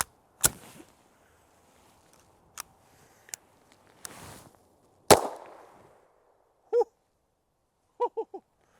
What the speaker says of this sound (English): First shots out of our OA 2311 full-size Pro.